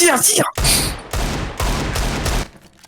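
Rapid rifle fire in the shooter Counter-Strike: Global Offensive, three loud close bursts in quick succession cutting off short chatter, then fading to quieter game sounds.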